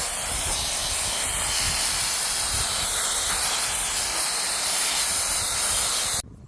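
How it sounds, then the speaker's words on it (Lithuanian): A Mio mini blower runs at a constant loud roaring hiss while cleaning a Yarbo Pro tracked robot lawn mower, then cuts off abruptly near the end, close to the microphone with no talking. "Turime štai tokį Mio mini pūstuvą. Įsijungiam jį"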